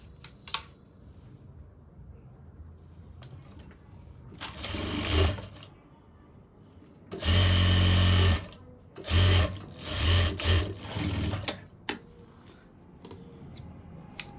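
A sewing machine stitches a sleeveless blouse in short separate bursts, one long run and several quick stitching spurts with pauses of cloth handling between, close and fairly loud, with no talk.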